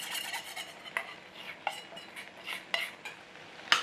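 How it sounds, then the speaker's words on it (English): Cornflour slurry being stirred into a thick apple pie filling in a pan, soft wet churning punctuated by a handful of sharp spoon knocks against the metal, close and quiet, no voices. "Give that a stir in"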